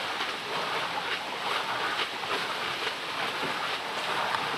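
Water wheel turning at Redbournbury Mill on the River Ver, with a steady, close rush of splashing, churning water that holds at an even level throughout and has no voices over it.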